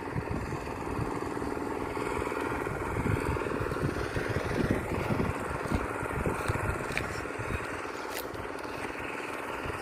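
A water pump engine drains a pond, running as a continuous droning hum with steady low rumble, fairly constant and moderately loud, with no talk.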